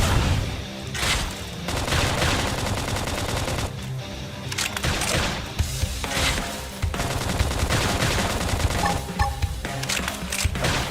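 Sustained battle gunfire in the video game Xenoblade Chronicles X, with dense rapid volleys and sharp shots that carry on almost continuously and break off into brief lulls. The bursts are loud and come with no talk.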